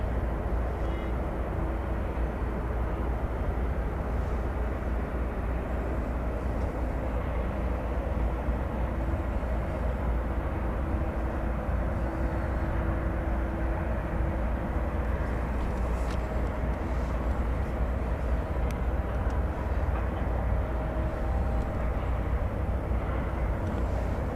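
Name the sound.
airliner, Flight 7 to Brisbane, at DFW Airport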